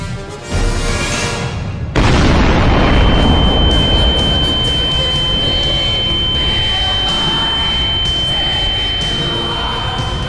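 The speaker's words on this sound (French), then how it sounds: "Le vacarme de la détonation agressa ses tympans." A sudden, loud detonation sound effect in a western thriller audiobook bursts in about two seconds after an opening tone, then gives way to a sustained, rumbling roar with a thin high ringing tone running beneath it.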